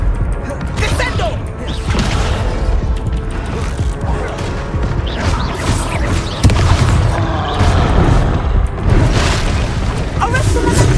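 A Descendo spell slams an enemy down in the Hogwarts Legacy video game on hard ultra settings, bringing loud, dense booms and crashing impacts that pile up across the battle, with voices speaking over the action.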